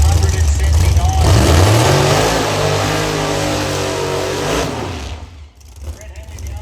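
Nitrous Camaro drag race cars accelerating hard at a motorsport park, a loud roaring engine surge that climbs in pitch and then fades, with an announcer talking over it.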